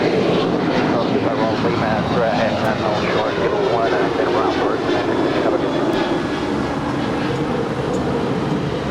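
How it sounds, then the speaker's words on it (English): An American Airlines Boeing 737-800 departs Los Angeles LAX for Chicago, a sustained engine roar with a wavering, whooshing texture, while voices talk over it. "This is American 383 departing to Chicago. It's a 737-800."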